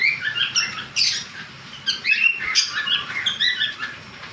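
Caged lovebirds and conures for sale chirp and squawk in a busy chorus of bright, overlapping calls, close and fairly loud, with a low background murmur and no talk.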